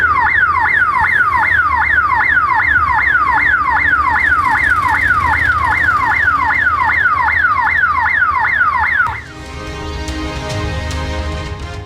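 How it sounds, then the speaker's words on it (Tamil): A loud electronic alarm in a cooperative bank wails in a fast repeating up-and-down sweep, then switches abruptly to a different pulsing tone near the end. "கூட்டுறவு வங்கியில் திடீரென அலாரம் ஒலித்ததால் பரபரப்பு"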